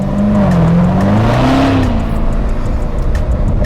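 A supercar engine revs hard while its not-yet-warm tyres slide, a loud close roar with a rising and falling pitch, followed by a sustained harsh mechanical rumble.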